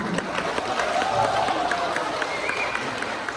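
Audience applause in an Indonesian school quiz final for junior high students, a dense wash of clapping and crowd noise filling the hall at steady loudness, with a voice briefly audible beneath it.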